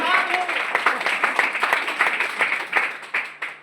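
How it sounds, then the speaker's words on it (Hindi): Audience applause at a Teachers' Day event in a library, fairly close clapping from a modest group with audible individual claps, steady at first and thinning toward the end. "इसके लिए एक बार जोरदार ताली से आप लोग सम्मानित कीजिए।"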